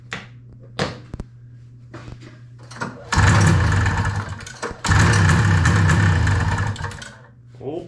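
A 1971 Arctic Cat snowmobile that sat for over fifteen years sputters with short starting attempts, then twice catches into a loud, buzzing two-stroke run for a second or two each before dying, with brief talk around it.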